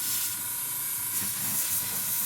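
Spray paint goes onto a Brummbar scale model in light coats, a steady close hiss lasting a couple of seconds with no voices over it.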